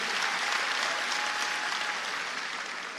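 Church congregation applauding together, a dense, even wash of clapping that holds steady and fairly distant for about three seconds.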